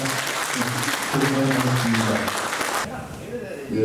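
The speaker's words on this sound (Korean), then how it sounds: "다시 한번 수고의 큰 박수 부탁드리겠습니다" Sustained applause from a seated audience at an academic symposium's closing discussion, loud and steady for about three seconds before dropping off, with a voice speaking faintly under it.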